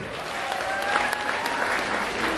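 An audience at a Kikuyu music event claps, bright dense applause filling the room, loud and sustained throughout with a slight swell in the middle.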